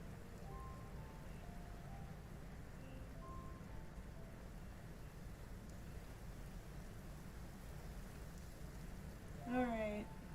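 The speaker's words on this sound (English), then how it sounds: "And it's raining." Steady rain falls in the video game Genshin Impact, a constant soft hiss of drops on surfaces that runs for the whole stretch, with a few brief game tones and a short chime near the end.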